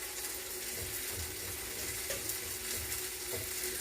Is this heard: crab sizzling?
yes